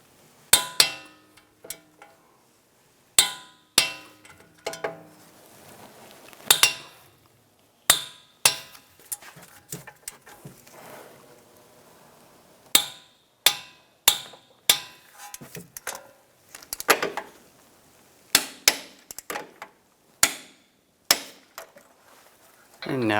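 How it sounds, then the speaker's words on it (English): Metal tools clank and click in irregular bursts near a 2014-2022 Jeep Cherokee rear wheel hub as its bolts are torqued, with sharp metallic clinks, quiet gaps between them and occasional talking. "Now I'm going to go back and torque those bolts to 70 foot-pounds."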